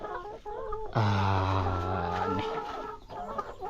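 Chickens cluck and call on a rural family homestead in Laos: there is low scattered clucking, then one loud, drawn-out squawking call up close, then softer clucks again, with a brief spoken word.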